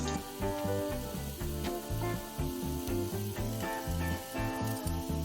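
Oil sizzles and crackles steadily as battered squid rings deep-fry, mixed under a loud, rhythmic backing of music with a thumping low beat.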